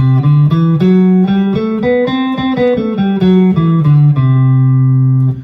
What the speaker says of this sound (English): C Lydian would sound like this.